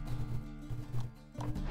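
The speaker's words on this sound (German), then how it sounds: "Ja, da ist Pferd." Horse hooves clip-clopping in The Witcher 3: Wild Hunt, a near, steady rhythm of soft thuds over low ambient hum, with no talk.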